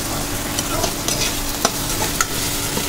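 Onions and masala frying in plenty of oil while being stirred, a constant loud sizzle punctuated by sharp spoon scrapes and taps against the pan.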